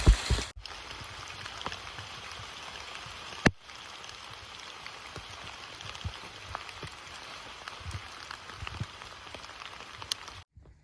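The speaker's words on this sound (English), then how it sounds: "it's currently raining and hailing" Rain and hail falling in a forest on the Appalachian Trail, a dense steady patter of drops and scattered sharper ticks heard close over several seconds, with a few louder knocks and no talking.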